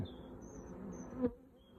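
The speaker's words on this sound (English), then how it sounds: "Now, these bees have been very busy." Bees from a small swarm housed in a poly nuc box in an apiary buzz steadily at close range for a couple of seconds, with a brief louder hum as one passes near, and no talking.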